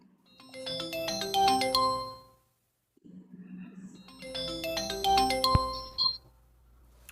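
A phone ringtone plays in two loud bursts, a tonal melody ringing with a quiet gap between them, left unanswered, with some faint low background noise in the pause.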